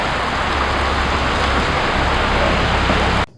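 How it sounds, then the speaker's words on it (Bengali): Dense, steady roar of heavy rain pouring down close by, unbroken until it cuts off abruptly at the end. "শুরু হয়ে গেছে ঝুম বৃষ্টি"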